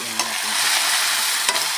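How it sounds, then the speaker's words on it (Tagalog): Bitter gourd leaves with onion frying in hot oil in a pan, a steady loud sizzle with a couple of scraping strokes as they are stirred, and no talking. "Haluin natin."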